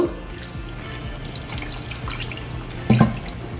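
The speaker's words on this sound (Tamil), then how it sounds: "கழுவுன இது தண்ணியை வந்து இதுக்குள்ள அப்படியே விடுங்கோ." Rinse water runs and splashes steadily into a bowl, with a brief louder gush near the end; no voices.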